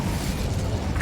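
The Incendio fire spell in Hogwarts Legacy bursts out as a dense, roaring rush of flame, loud and close, with no talk over it.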